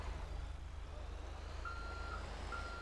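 A truck in a FiveM police roleplay backs up with two evenly spaced reversing beeps over a steady low engine rumble, fairly close and without talk.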